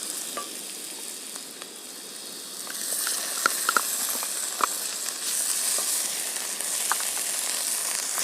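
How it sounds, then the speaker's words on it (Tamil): Ginger garlic paste frying with softened onions in a pan for Hyderabadi chicken, a steady broadband sizzle throughout with a few sharp spatter pops and light stirring scrapes, fairly quiet and close. "இப்போ நம்ம இஞ்சி பூண்டு பேஸ்ட் போட்டுக்கலாம்"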